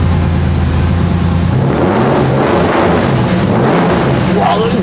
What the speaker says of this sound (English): The flat six, boxer motor.